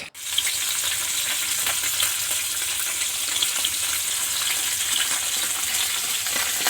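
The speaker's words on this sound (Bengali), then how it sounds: "আলু আর ডুমুরটা একটু ভালো করে ভেজে নেব" Potato and fig pieces frying in a pan, a continuous close sizzle with faint crackles and occasional stirring, steady in loudness throughout.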